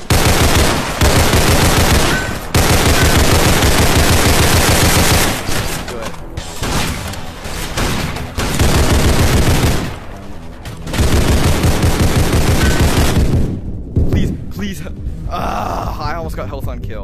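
Shotgun blasts in a VR shooter game ring out loudly in quick, repeated volleys, close and aggressive, with voices and grunts mixed in over the gunfire.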